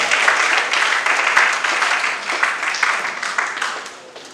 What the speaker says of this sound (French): nous allons applaudir fort pour eux